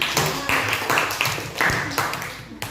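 Classroom students clapping in unison in short rhythmic bursts, a patterned clap routine repeated several times, close and moderately loud with faint voices in the background.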